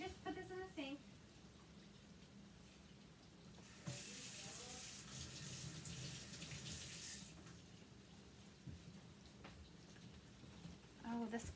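Water from a sink tap runs over a chalk stencil being washed, a steady broadband rush that swells for several seconds mid-clip and then eases off, close and fairly loud.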